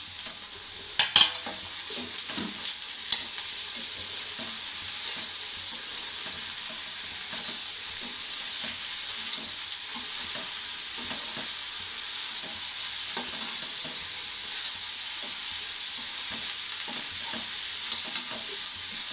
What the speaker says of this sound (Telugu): సొరకాయ వేస్తాను.